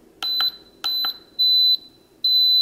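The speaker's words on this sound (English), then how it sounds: "Our timer just went off." A Hamilton Beach breakfast maker timer goes off with loud, close electronic beeps, four bursts in a quick uneven pattern, the last held longer.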